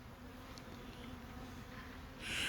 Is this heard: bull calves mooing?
no